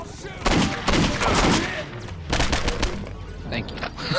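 Shotgun blasts in the Postal 2 video game, several loud, heavy shots in quick succession with a pause between bursts, close and dominant over the game's background.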